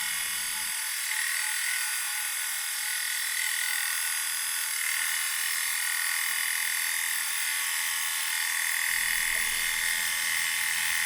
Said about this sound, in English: I could have hollowed this out rather than drilling it with a Forstner bit